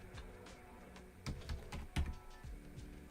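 Computer keyboard typing at a desk, a quiet run of soft key taps with a few louder clustered strikes.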